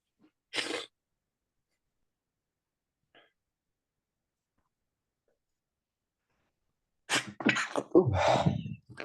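A single sharp sneeze breaks the quiet near the start of a mathematics class, followed by a long silence, then a few seconds of close conversation in French.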